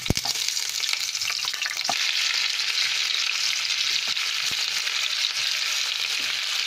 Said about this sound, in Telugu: ఇవి బాగా ఫ్రై కానివ్వాలి